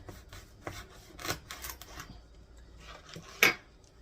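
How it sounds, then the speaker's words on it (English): Knife cutting through frozen bacon on a board in a home kitchen, a run of scraping, rasping strokes and light clinks spread over a few seconds, ending in one sharper knock near the end. "And I'm going to cut up some bacon that I had in the freezer."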